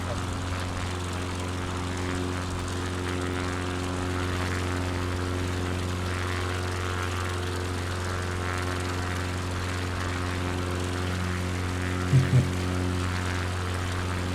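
A Piper Cub-style light propeller plane in a flight simulator drones steadily, its engine a constant buzzing hum with strong tonal harmonics, with brief faint clicks near the end.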